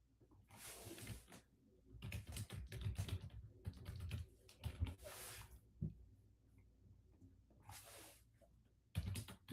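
Typing on a computer keyboard, close and quiet: irregular bursts of soft key clicks separated by brief pauses.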